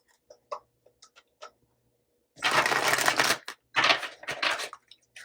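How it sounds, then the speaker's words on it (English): A few soft card taps, then two loud riffle shuffles of a tarot deck, close up, separated by a brief pause. "let's give it one more shuffle."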